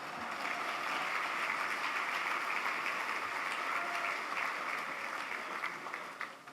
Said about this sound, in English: would you just give yourself a round of applause?